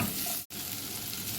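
Onions and vegetables sautéing for pumpkin soup, a close, dense sizzle with a brief cut in the middle, no voices.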